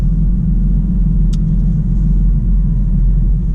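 A BMW fitted with the SMG 3 automated manual gearbox cruises in drive mode, its steady low engine and road rumble continuous and close from inside the cabin, with a brief light click partway through.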